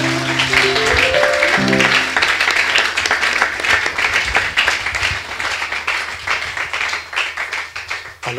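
A church congregation applauding the Lord: dense, sustained clapping from many hands that fills the room and slowly thins toward the end, with a held musical tone fading out at the start.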